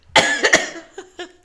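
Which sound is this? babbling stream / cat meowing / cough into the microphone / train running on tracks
cough into the microphone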